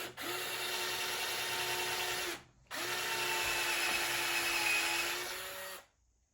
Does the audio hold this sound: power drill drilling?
yes